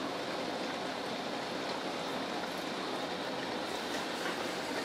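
Water sprayed against a retrofit window, leaking through the seam between the old and new window frames, gives a steady hissing wash of spray without pause or speech.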